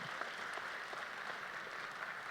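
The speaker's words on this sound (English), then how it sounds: "Another round of applause for Dr." Audience applause at a college spring in-service event, steady clapping from a crowd in a hall, moderately distant and continuous with no talk over it.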